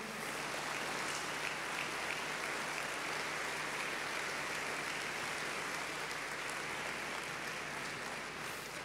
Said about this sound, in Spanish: Si va a aplaudirle al Señor.